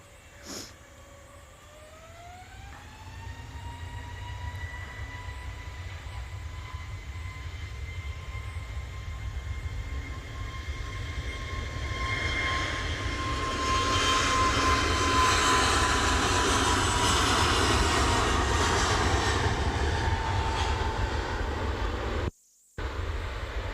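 A Jet2 airliner departs Manchester Airport, its engines spooling up from a low whine to a steady roaring thrust that swells louder and then holds, with no talking.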